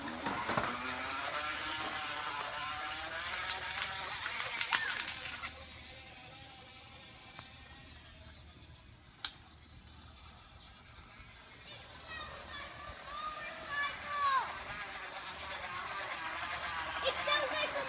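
A plastic water bottle fixed against a bicycle tire flaps and buzzes like a small motorcycle, rising and falling as the bike moves, loudest early and again near the end, with people talking over it.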